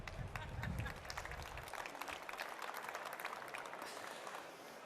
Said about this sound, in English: You're allowed to clap again.